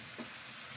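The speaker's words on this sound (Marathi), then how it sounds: "छान सगळी लापशी अशी तुपात परतवून घ्यायची." Broken wheat (lapsi) roasting in a spoonful of ghee, giving a soft, steady low sizzle with faint stirring scrapes, brief and quiet with no voices.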